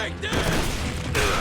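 Video game gunfire in a rapid burst, loud, close and dense, continuing for about a second with a brief gap partway through.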